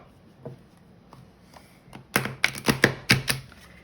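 Tarot cards are shuffled: a few faint rustles, then a quick run of crisp, clattering card flutters close by, one after another.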